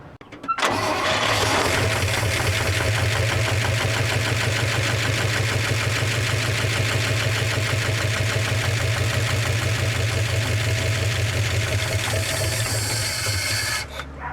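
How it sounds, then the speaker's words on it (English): A 1961 Chevy Apache truck engine cranking steadily on the starter for about thirteen seconds, a loud, even, rhythmic churn that stays up close and never catches, then stops abruptly. "Let's keep cranking and see what happens."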